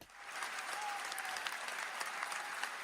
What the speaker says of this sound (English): Clap it up for Pablo the One.